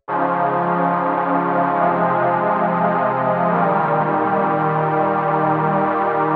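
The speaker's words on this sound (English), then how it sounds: "So the synth I'm using is called Analog Waves and it's from Logic." A soft, sustained Logic Analog Waves synth pad holds rich chords, with one smooth chord change midway, steady and loud throughout.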